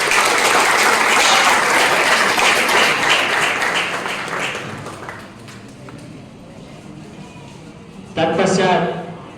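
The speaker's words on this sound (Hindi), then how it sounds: "तालियों से स्वागत करते हैं" Loud welcoming applause from the audience at a teacher-training college closing ceremony. It fades to quieter scattered clapping, then swells again in a brief burst near the end.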